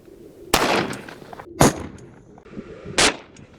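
A Desert Eagle pistol fires jacketed soft point rounds outdoors, three loud sharp reports spaced about a second apart, each with a short echoing decay.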